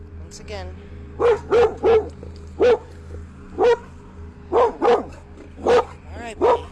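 A dog barks in a series of short, loud, close woofs inside a house, about a dozen spaced barks with quieter gaps over a low background hum.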